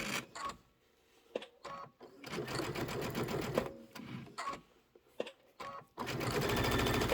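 Domestic sewing machine stitching close to the edge of a pillow case, sewn from the wrong side; bursts of loud, steady motor whir and needle clatter start and stop, separated by short pauses.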